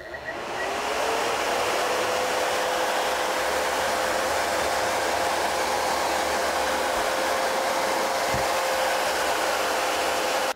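A nail salon table dust vacuum runs loudly and continuously, a steady close roar of airy noise with a faint whine, starting up at the beginning and holding unchanged with no talking.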